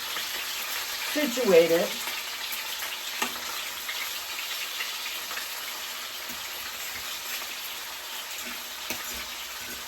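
Chicken pieces frying in a pan give a soft, steady sizzle that hisses faintly throughout, with a brief louder bump early on and a few words spoken quietly.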